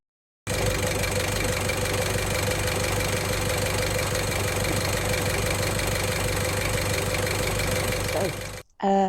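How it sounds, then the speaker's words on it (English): A campervan engine starts and settles into a steady, rumbling idle that runs continuously before cutting off abruptly at the end. "bear me a second while I turn the engine on"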